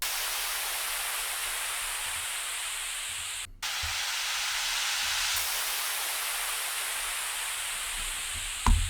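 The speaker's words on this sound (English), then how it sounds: "So all we have is white noise risers and downers." White noise riser and downer effects from a speed garage sample pack: broad hissing sweeps that swell and fall, broken by a brief cutout midway and a short thump near the end.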